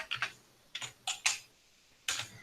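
Clicky keystrokes on a computer keyboard as a drop database command is typed, coming in a few short bursts of taps separated by brief pauses, close and fairly quiet.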